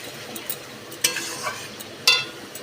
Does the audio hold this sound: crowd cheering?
no